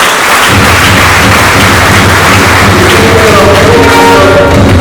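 Church congregation applauding at a fellowship gathering, a dense steady wash of clapping mixed with crowd noise and low rumble, loud and continuous throughout.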